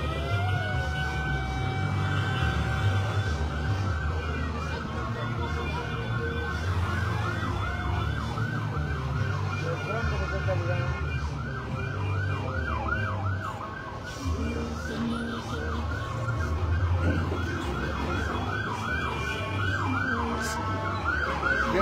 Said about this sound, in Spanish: Viene una ambulancia.